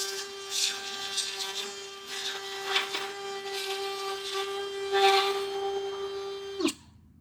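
Router cutting into wood through a hole template, a steady high motor whine with scraping cutting noise that stops abruptly near the end.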